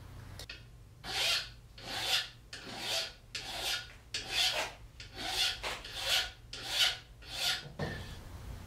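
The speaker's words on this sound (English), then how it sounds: "finish things up with the file" A hand file rasps along the edge of a steel shuriken in about a dozen rhythmic back-and-forth strokes, each one a gritty scraping swell, close and moderately quiet.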